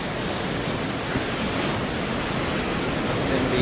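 Roaring sea waves pounding the Karnataka coast during heavy rain, a continuous broadband rushing roar with no distinct breaks, loud and steady throughout.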